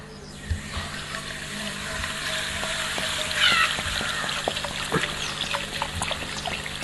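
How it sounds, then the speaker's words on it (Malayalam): Coca-Cola poured into a very hot pan, a sustained close sizzle with crackling pops and a trickling pour, bubbling steadily throughout. "അപ്പൊ നല്ല അടിപൊളി കൊക്കക്കോള ഒരെണ്ണം വാങ്ങിയിട്ട് നമ്മൾ നേരെ നല്ല ചൂടുള്ള പാനിലേക്ക് ഒഴിച്ചു കൊടുക്കുകയാണ്"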